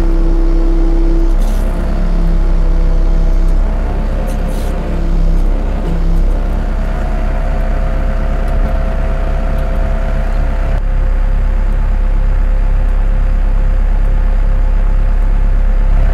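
CAT TL943 telehandler engine running steadily during four-wheel steering, a loud constant low diesel drone with faint mechanical whine and occasional clicks.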